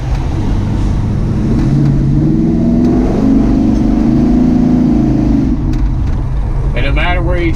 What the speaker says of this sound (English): Those 3-inch Flowmasters on it give it an incredible sound.